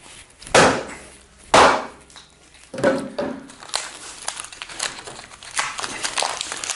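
Hammer whacks notching a wooden post come as two loud, sharp strikes near the start, followed by several weaker knocks and the crackle of splitting wood chips.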